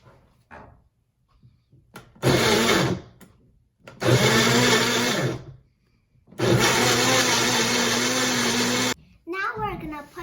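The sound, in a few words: electric mixer blending milkshake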